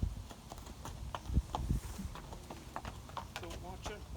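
A horse being led on a lead rope clip-clops along at a walking pace, its hoofbeats fairly close and steady beneath a person talking and some background noise.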